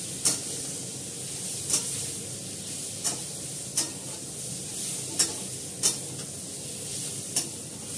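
Dry red chillies frying lightly in oil in a pan give a steady soft sizzle, with sharp scraping stirs at regular intervals of roughly a second and a half.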